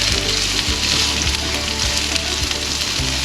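Food sizzles steadily in a pan on low heat while tofu stir fry is being cooked, a close, even crackle and hiss running without a break and with no voices.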